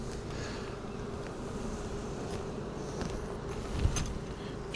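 Honey bees buzz steadily over an open hive frame of capped, ripe honey, a dense continuous hum of many insects close by with a faint brief knock near the end.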